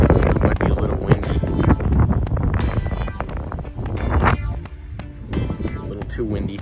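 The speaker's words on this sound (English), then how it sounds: "A little too windy." Gusty wind buffets the microphone outdoors on a fishing outing, coming in loud, uneven rumbling bursts close to the mic, with people talking over it.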